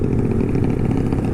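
Honda CB150R motorcycle with stock ported engine and BSS round pro exhaust, a loud, steady, rough low engine drone running close and continuous with no talk.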